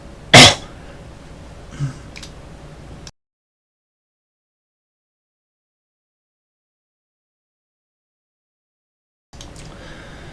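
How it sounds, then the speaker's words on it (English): A single sharp cough near the start, followed by a softer noise, then a long stretch of total silence before faint room sound returns. "I needed to get that cough out"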